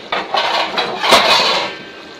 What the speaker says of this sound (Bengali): এখন আমি ঢেকে দিব, কারণ হচ্ছে এটা যাতে তাড়াতাড়ি সেদ্ধ হয়ে যায়।